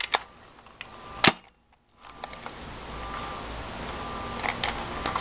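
A Predator Pistol Splat toy blaster fires with a sharp, loud pop, followed by a brief silence and then softer mechanical clicks and rattles from the toy.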